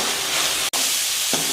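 Vegetables with crushed ginger and garlic sauté in oil and ghee for pav bhaji, a loud continuous hiss of frying that cuts out for an instant and resumes, with a brief scrape near the end.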